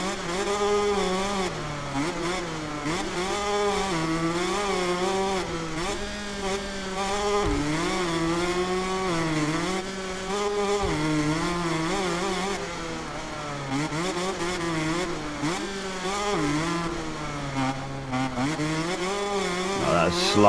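Motocross bike engine in the racing game MXGP 2021, a continuous buzzing high-revving drone that rises and falls with shifting throttle over twenty seconds, loud and steady without talk.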